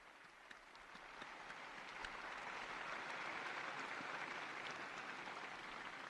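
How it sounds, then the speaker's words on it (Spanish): A large crowd applauds a newly beatified person after the Pope's Regina Coeli address, producing a dense, far-off roar of clapping that swells slightly and then holds steady, with no speech. "Un aplauso para el nuevo beato."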